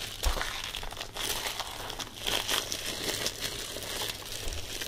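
Plastic wrap crinkles and crumples as it is peeled off a Deadpool Blu-ray case, a close, continuous rustle with sharper crackling bursts throughout.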